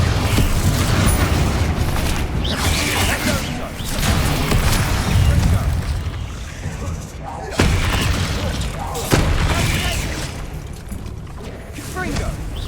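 Bombarda spell explosions in the Hogwarts Legacy video game, repeated heavy booms and shattering bursts amid dense combat noise, loud and close, with sharp impacts recurring through the fight and voices calling out spells.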